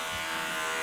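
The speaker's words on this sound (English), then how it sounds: "So let's just shave this back" Electric clippers shave the dense hair around a large sebaceous cyst on a guinea pig, giving a loud, steady close-up buzz that holds unbroken for under a second.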